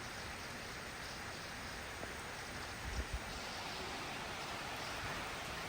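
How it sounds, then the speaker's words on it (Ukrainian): Heavy rain pours down outdoors at a resort, making a dense, steady hiss that holds level throughout with no voices. "Такий сильний дощик пішов."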